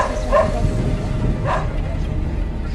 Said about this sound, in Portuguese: um forte vento chamou a atenção até mesmo dos cães, que latiam insistentemente